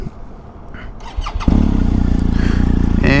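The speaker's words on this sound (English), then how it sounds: "One thing to note right off the bat, which is pretty cool with this bike, is it has a keyless start." A BMW adventure motorcycle with keyless ignition cranks briefly and catches, then settles into a steady, loud idle close by.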